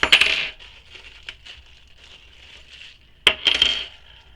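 Small metal rectangle rings clink and jingle as they are picked up and handled, with a bright cluster of rattles at the start, quiet shuffling in between, and a second burst of jangling near the end.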